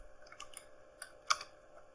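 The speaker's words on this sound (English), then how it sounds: "So this would be the Iliads by Homer with the same keyboard." Keystrokes tapping on a computer keyboard while Greek text is entered, a few scattered light clicks with one sharper press near the end, quiet and close with no talking.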